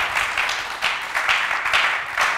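A studio audience at a talk show applauds in steady waves of clapping that swell and ease, with no voices over it.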